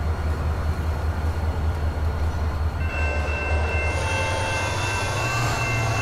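Amtrak GP40-2 diesel locomotive in the Transport Fever game, a steady low engine drone with rail rumble that grows fuller partway through as the train picks up speed, alone and fairly close.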